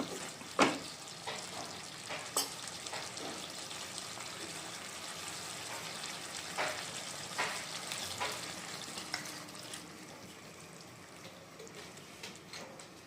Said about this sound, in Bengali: আর এখন পরিমাণ মতো জল দিয়ে নেব আমি।